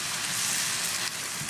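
Breakfast sausage sizzling in a hot pan, a dense, steady crackling hiss heard up close without talk.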